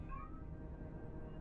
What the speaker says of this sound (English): Kitty, stop meowing.